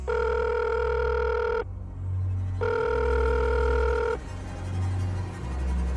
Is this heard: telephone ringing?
yes